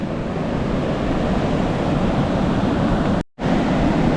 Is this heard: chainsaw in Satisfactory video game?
no